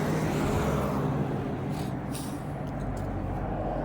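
Steady roar of traffic along a major street in Terre Haute, a constant broadband rumble of passing cars and trucks with no talk over it.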